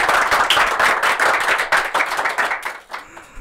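Audience at a podcast recording clapping together on cue, a dense close burst of handclaps that holds steady and then thins out and stops near the end.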